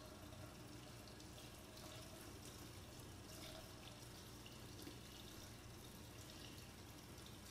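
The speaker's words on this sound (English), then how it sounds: "I'm just going to rinse it." A tap runs continuously while stencilled glassware is rinsed under it, a soft, steady hiss of flowing water with faint splashes throughout.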